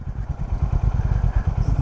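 A Honda H'ness CB350 motorcycle on a ride through the countryside, its engine thumping in a steady, loud low rumble that runs for the whole stretch with no talk over it.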